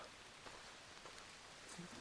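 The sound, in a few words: heavy rain falling on a mountain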